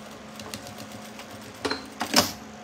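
Sewing machine stitching a seam on a crossbody bag, a faint steady mechanical whir with a few short louder bursts of stitching toward the end, close by and without talk.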